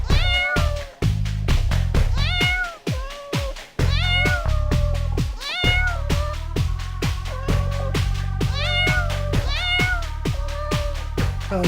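A cat meows repeatedly at close range, a long run of loud, insistent cries with short gaps between them and steady background sound underneath.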